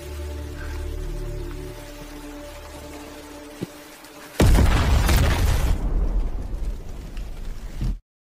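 Explosion in the Korean series Sweet Home Season 2, a sudden heavy boom bursting in after a quiet musical stretch, followed by a long crackling, rumbling tail like debris and rain before cutting off.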